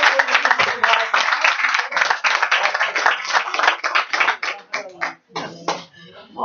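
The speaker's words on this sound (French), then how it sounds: "Alors on vous applaudit une dernière fois" An audience gives a final round of applause, dense rapid clapping that is loud and sustained, then thins into scattered claps near the end as a voice begins under it.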